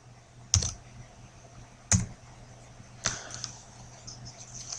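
Three separate sharp key taps on a computer keyboard, spaced about a second apart and fairly faint, with no talk, during a JavaScript coding lesson.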